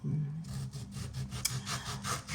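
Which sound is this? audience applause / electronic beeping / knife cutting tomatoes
knife cutting tomatoes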